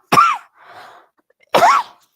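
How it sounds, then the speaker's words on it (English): Two sharp, loud coughs from a person who caught an infection over the weekend, separated by a short breathy exhale, each burst close and harsh with no talk around them. "are you taking something for that cough?"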